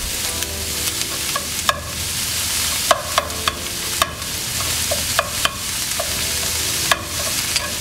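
Chopped onion and meat browning in a pan for spaghetti sauce, giving a steady close sizzle with sharp clinks and scrapes of a utensil stirring against the pan.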